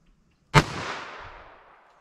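A single sharp report from a snub-nose handgun firing a .22 Magnum Gold Dot round, loud and close, with a clear crack and a decaying echo tail, alone without talk.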